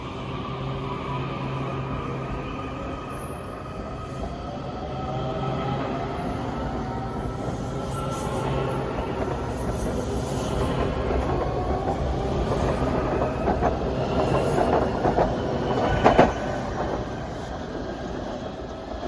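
A Washington Metro Red Line Breda train arriving at Takoma station, running alongside freight tracks, with a steady loud rolling rumble of wheels and rails that builds, plus brief squeals and clicks of wheels near the end.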